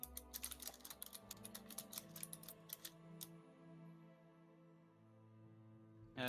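Rapid keystrokes on a computer keyboard clatter in a dense burst for about three seconds and then stop, set over a low steady background hum during a tabletop role-playing session.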